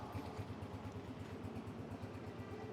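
A used 2024 Honda 125 motorcycle in solid condition idles close by, its engine throbbing in a steady, even low rumble throughout with no voices.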